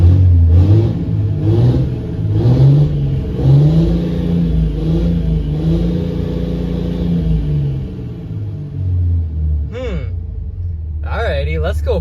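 A Cummins diesel engine revs up and down in repeated rumbling surges in a garage, loud and close, with short bursts of voices toward the end.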